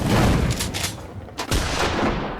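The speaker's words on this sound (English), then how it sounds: "I love the sound of the gunshot." Gunshot effect from a Zaccaria Pinball video game table: a loud, broadband blast with a second sharp crack about 1.4 seconds in, dense with rumbling low end and no talk over it.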